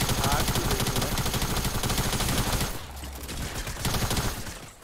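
Rapid automatic gunfire from the Fortnite video game, a dense stream of loud shots that cuts off partway, then resumes after a short pause.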